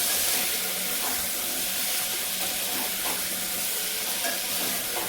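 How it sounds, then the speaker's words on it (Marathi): Boiled potatoes are stirred with onion, tomato and spices in a hot pan, giving a continuous hissing sizzle with soft scraping strokes at a steady pace throughout. "बटाटा हा आपल्याला सर्व मसाल्यांबरोबर कांदा टोमॅटो बरोबर छान मिक्स करून घ्यायचा आहे"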